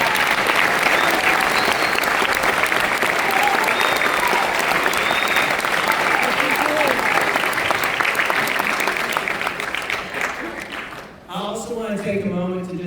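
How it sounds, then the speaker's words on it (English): A school audience at a sixth-grade spring concert in North Carolina applauds the teachers with dense, steady clapping for about eleven seconds before it fades and a voice begins speaking. "So let's have a round of applause for our teachers."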